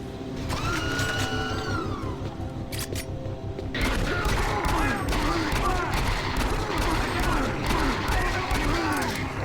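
Doom 3 on PS4 with dense game action: a broadband burst near three seconds and another near four seconds, then sustained loud clattering effects and growls fill the remaining seconds, with no clear single shotgun blast standing alone.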